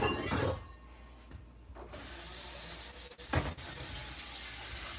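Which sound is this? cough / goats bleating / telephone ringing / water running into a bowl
water running into a bowl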